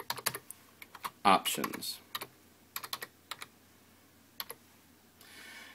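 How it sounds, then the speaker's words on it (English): Computer keyboard typing into a Windows search box: a string of sharp, irregular key clicks with short pauses and one louder cluster, fairly close, with a brief spoken word partway through. "in the search box, you want to type folder"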